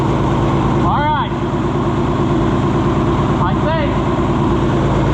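A John Deere 4020 tractor engine idles with a steady, throbbing low rumble throughout, while someone speaks briefly over it.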